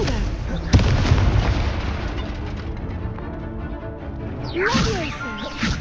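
A Confringo blasting spell explodes in the Hogwarts Legacy video game with a sharp burst early on. Dense rumbling effects and whooshing spell sounds follow, layered with in-game voices.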